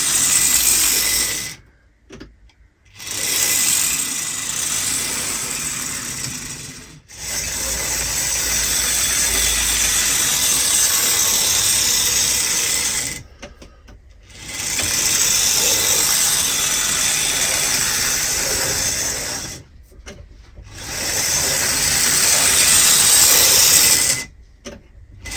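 A Hornby Bachmann Dublo Deltic model locomotive with old rubber tyres runs along the track, giving a steady, close mechanical whir and rattle in long stretches broken by brief silent pauses as it stops and changes direction.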